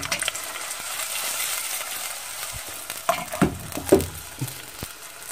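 Garlic frying in a pan, a soft steady sizzle with a few clinks and stirring knocks near the end; fairly quiet and close.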